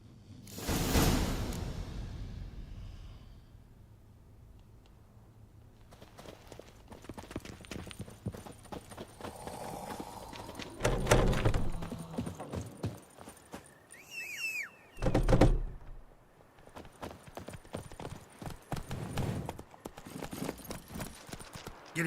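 A horse gallops in The Witcher 3, a long rhythmic run of hoofbeats with whooshing swells of wind and movement and a few louder thumps. No one speaks.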